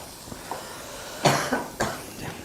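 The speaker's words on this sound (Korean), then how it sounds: "천천히 기침 다 하세요. 기침 다 하시고요." A patient coughing during dental implant surgery, a few faint preliminary sounds then two distinct, fairly close coughs about half a second apart in a quiet room.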